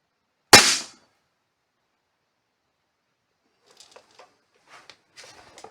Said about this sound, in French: Bon, ça va être le dernier tir comme ça.